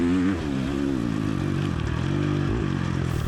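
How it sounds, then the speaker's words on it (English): A motocross dirt bike engine races across a field section during an MXGP race: a loud, close, buzzing drone that climbs and dips in pitch as the throttle is worked, with a brief clatter near the end. "just listen to my bike eat."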